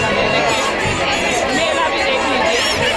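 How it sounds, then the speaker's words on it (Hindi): A large crowd fills a Dussehra fair, a dense, steady hubbub of many overlapping voices and chatter close around, with scattered shouts. "बहुत ज़्यादा भीड़ है, यहाँ चलने की जरूरत नहीं, अपने आप धक्के में हम चलते चले जाते हैं।"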